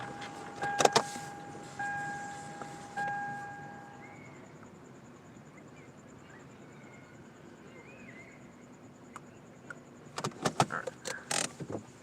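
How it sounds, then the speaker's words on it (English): A car slowly reverses along a street lined with parked cars, its engine a steady low hum, with a few sharp clicks and knocks near the start and a cluster of them at the end. "So I'll just back up so there's space in front of me to park my car."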